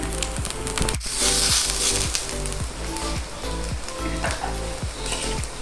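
Rice-flour pathiri flatbread cooks on a griddle over a medium flame, a soft steady sizzle broken by regular scraping strokes as it is turned.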